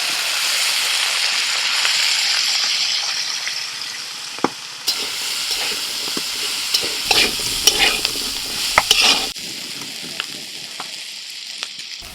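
Potatoes fried in oil in a kadai give a continuous loud sizzle, with scattered stirring clicks and scrapes of a spatula partway through; no talking.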